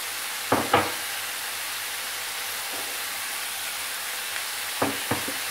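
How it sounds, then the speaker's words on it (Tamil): Pumpkin stir-fry being stirred in a pan, a steady soft sizzle with a low hum underneath and a few short clinking scrapes of the spoon near the start and end. "கிண்டிட்டு இந்த பூசணிக்காயை இதில் போட்டுடலாம்."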